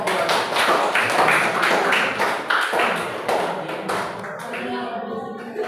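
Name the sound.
classroom applause for group 2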